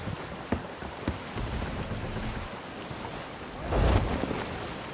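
A ship sails in a pirate video game, with continuous ocean wash and wind noise rolling around it. A louder surge of waves swells near the end, and no one speaks.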